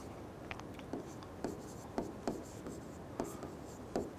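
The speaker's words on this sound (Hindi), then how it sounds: "जगह खाली थी तो इसलिए लिख दिया" A pen scratches across paper in short, steady strokes with regular faint taps, close and quiet, handwriting an answer with no talking.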